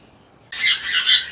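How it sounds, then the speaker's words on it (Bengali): A pair of sun conure parrots letting out harsh, shrill screeching calls, loud and close, in three quick overlapping bursts after a brief quiet start. "এখানে খুব সুন্দর একজোড়া সানকুনোর পাখি দেখতেছেন"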